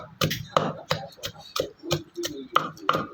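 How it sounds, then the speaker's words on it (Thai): Pounding of mackerel with roasted chilies in a mortar, a run of sharp thuds at an irregular, quick rhythm, close and fairly loud, with no talk over them. "แล้วเขาก็มาตำปลาทู กับพริกที่เขาขัวไว้"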